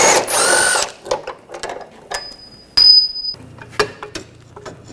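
Power tool on a control arm bolt of a Ford Escape: a short loud whirring burst, then clicks and ratcheting clatter, a brief high-pitched whine, and scattered metallic knocks close by.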